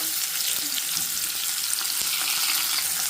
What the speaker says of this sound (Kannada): ಈರುಳ್ಳಿ ಎಲ್ಲ ಫ್ರೈ ಹಾಕ್ತಾ ಇದೆ